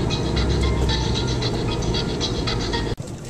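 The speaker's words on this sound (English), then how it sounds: "I'm on a train." Steady mechanical rattling and clatter of a moving train heard from inside the carriage during a ride, loud and continuous with rhythmic ratcheting clicks, ending in a brief sharp jolt near the end.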